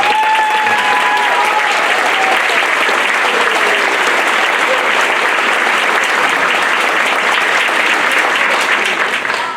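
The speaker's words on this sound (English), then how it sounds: "So give him a nice round of applause." A high school audience at a Paul V. Moore High School symphonic band concert applauds a student honoree with loud, continuous, dense clapping that fills the room from start to finish.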